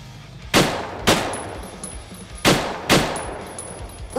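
Gunshots in the VR game Drunk Or Dead 2 ring out as four loud, sharp single blasts in two pairs, each with a short decaying tail over a faint background hum.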